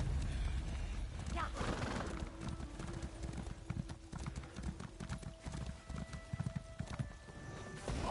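A horse gallops and neighs in The Elder Scrolls Online, with rapid clip-clop hoofbeats running throughout, a whinny near the start and game tones later, while people talk over it.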